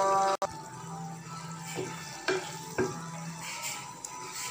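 Cornflour slurry and soy sauce being stirred into chilli chicken gravy in a pan, a low simmering sizzle under scattered scraping and clinking of a spoon against the pan, with one sharp knock near the start.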